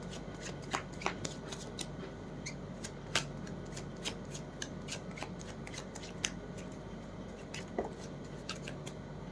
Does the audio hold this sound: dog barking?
no